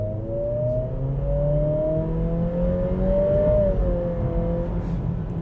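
A 2026 Acura ADX small SUV accelerating at full throttle, its engine drone steady and loud from inside the cabin, pitch climbing smoothly with a brief dip around a shift, then rising again with no talk over it.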